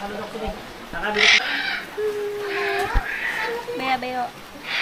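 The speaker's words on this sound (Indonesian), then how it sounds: "Ini ada beo." A myna bird at Rumah Ulin Arya gives clear whistled and squawking calls at close range, interspersed with people talking nearby.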